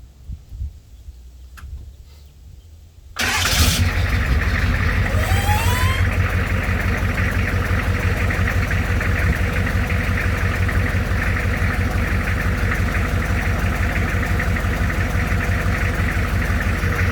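An M1152 Humvee engine starts up and settles into a steady, loud idle, a continuous close diesel rumble with a faint ticking over it after a few quiet seconds.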